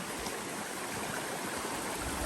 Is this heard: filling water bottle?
yes